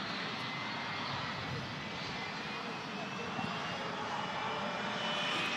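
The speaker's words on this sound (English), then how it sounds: "Oh, it's the Turkish Airlines A330." A Turkish Airlines A330 airliner arriving at Manchester Airport in strong crosswinds, heard as a steady broadband engine roar that holds evenly throughout with no pauses.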